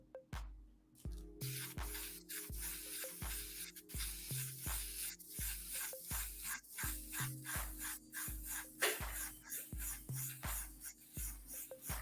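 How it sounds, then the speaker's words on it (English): Airbrush spraying paint over a black base coat on an aircraft scale model, a faint hiss in short bursts behind a regular rhythmic background clicking, no talk. "We'll see how this sprays against the black first."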